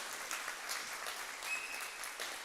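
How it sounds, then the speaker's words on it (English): Church audience clapping together at a Mother's Day service, a dense, even wash of many hands that carries on steadily throughout, heard from some distance in a reverberant room. "you guys can clap for that"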